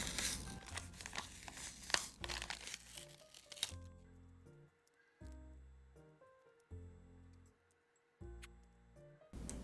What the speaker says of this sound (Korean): 그리고 봉투에 있는 것도 뜯어서 써볼게요